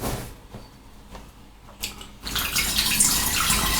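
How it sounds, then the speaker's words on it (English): Distilled water poured for soap making, starting with a few soft clunks and handling noises, then a steady, fairly loud rush of pouring water that continues to the end. "And then I'm going to add 600 grams of distilled water."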